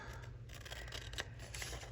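Scissors snip and slide through paper while cutting out pieces for a creative daily journal, a steady close rasping cut lasting a couple of seconds with no talking.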